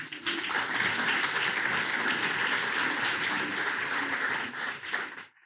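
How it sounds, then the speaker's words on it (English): Sustained applause from a conference audience honoring sponsors, steady dense clapping for about five seconds before fading out at the end. "another big round of applause for them"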